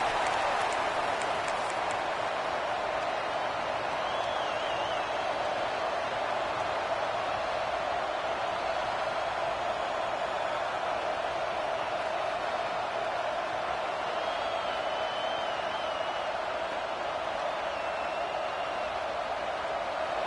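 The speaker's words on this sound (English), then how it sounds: "This crowd ready to make its presence known." A stadium crowd in the college football video game CFB26 makes a steady, loud roar that holds evenly throughout, with a commentator's voice faint beneath it.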